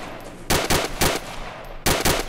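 Gunfire in a military shooter video game: five loud, sharp shots in two quick clusters, three in a row, a pause, then two more, up close over faint background ambience.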